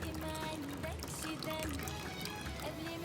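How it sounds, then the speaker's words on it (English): Cooking juice poured from a pot while making Persian tahchin rice, a close, steady splashing pour with faint background voices underneath. "I drain most of the juice out of the pot and I put it inside there"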